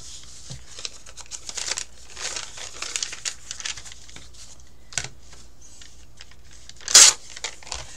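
Scissors snip through craft paper to cut out circles, giving a run of small crisp crinkles and cuts with one louder rustle near the end, close and without talk.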